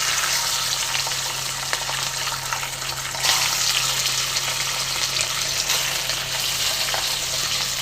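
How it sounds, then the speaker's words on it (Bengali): Pieces of rohu fish rubbed with salt and turmeric fry in hot white oil in a wok, giving a loud, dense, continuous sizzle that flares stronger partway through, close up and with no talking. "এবার এই তেলটা গরম হয়ে গেছে, এর মধ্যে আমি মাছগুলোকে নরম করে ভেজে নেব।"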